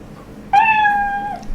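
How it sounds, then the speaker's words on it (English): A single synthesized cat meow sound effect played back in a block-based programming project, clear and close, starting abruptly after a brief quiet lead-in and holding a steady tone for about a second. "And a meow."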